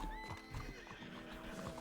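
A horse in Red Dead Redemption 2 whinnies and its hooves clip-clop, close and steady through a short burst with no talking.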